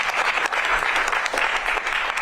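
An audience applauds steadily, a dense and fairly loud wash of clapping that holds evenly across the whole stretch with no voices standing out.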